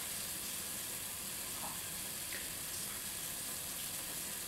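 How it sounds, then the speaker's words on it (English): Food sizzling in a pan while cheesy scalloped potatoes are cooked from scratch, a constant even hiss with no breaks, moderately loud and heard alone. "we're going to let this sizzle"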